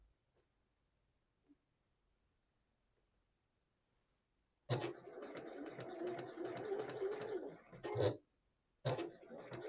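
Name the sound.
sewing machine stitching boxer shorts side seam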